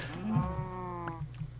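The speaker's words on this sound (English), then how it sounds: "dang it, there were cows." Cows moo in a video game, a drawn-out, moderately distant lowing call that wavers in pitch for about a second over ambient game noise, with no talk.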